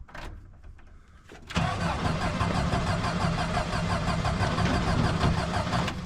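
A manual-transmission car catches as the clutch is let out, and its engine jumps from quiet to a steady, loud running drone that holds close by for several seconds.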